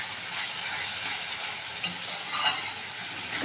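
Mustard paste spice mix frying in oil for a fish bhapa dish, stirred in the pan: a continuous soft sizzle with occasional light scraping and clicks of a spoon, no voices.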